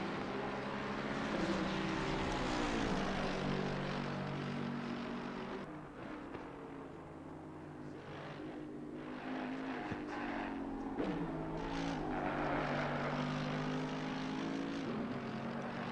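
Race car engines drone loudly and continuously, rising and falling in pitch as the cars sweep past at a distance, blending into a sustained thunderous roar.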